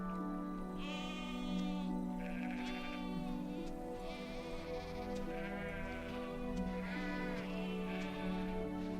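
Sheep bleat repeatedly, several clear wavering calls in close succession over a steady background, loud and near, with no talking.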